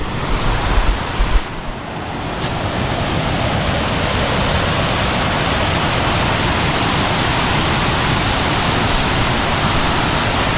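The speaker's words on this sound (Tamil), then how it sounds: "ஸோ இந்த இருக்குது இந்த தண்ணி வடிகிற இடம் பாருங்கள்" Water pours steadily over a lake spillway at Pimburuththawa lake, a loud, continuous rushing roar heard close up, with a few brief bumps near the start and no voices.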